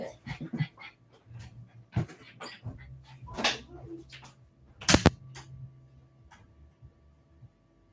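A dog whimpers and pants in short, uneven bursts during an indoor seminar, with a couple of sharper, louder yelps among softer breathy sounds.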